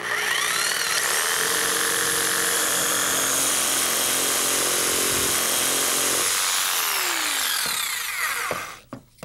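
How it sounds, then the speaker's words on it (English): A power jigsaw cutting a curve through wood: a loud, steady buzzing saw run that holds for about eight seconds before stopping, ending with a few short clatters. "So this is where the power jigsaw comes in."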